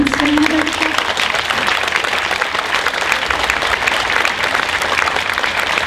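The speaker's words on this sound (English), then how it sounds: "the last applause should always be for the performer, so give them one more hand" An audience applauds a performer at the close of a concert, steady dense clapping filling the hall throughout, with a brief voice at the very start.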